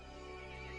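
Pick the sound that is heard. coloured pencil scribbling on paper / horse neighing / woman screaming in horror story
horse neighing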